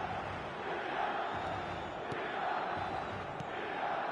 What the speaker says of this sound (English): Red and black wherever you turn, the San Siro is buzzing.